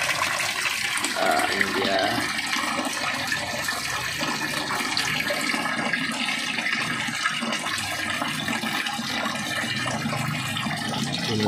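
A circulation pump pushes water through an external pond filter, giving a continuous close rush of gushing, splashing water throughout, with someone speaking briefly over it.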